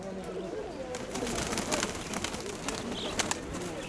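Pigeons at a bird market in Dnipro coo in a steady, busy backdrop with scattered chirps and wing flutters, fairly close and continuous throughout.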